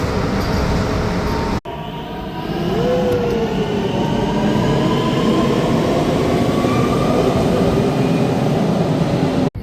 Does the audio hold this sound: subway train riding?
yes